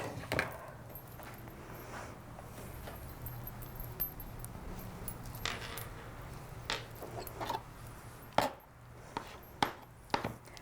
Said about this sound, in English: I want to chop this up a little bit